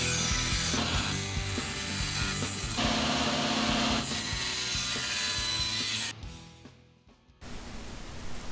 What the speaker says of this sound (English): we're doing the engraving where the maple inlay is going to go